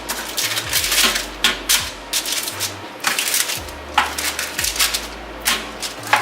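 A dull kitchen knife cuts through food on a cutting board during meal prep, giving repeated close taps and chopping strokes in an irregular rhythm, with no talking.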